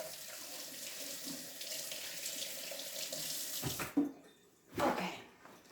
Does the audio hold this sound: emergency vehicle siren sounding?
no